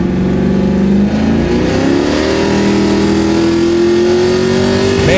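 Modified car engine revving hard during a launch attempt, a loud sustained roar with pitch climbing steadily through the revs, close and alone with no talk.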